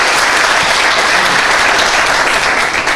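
Loud, dense audience applause, a continuous roar of clapping hands close by that holds at an even level throughout.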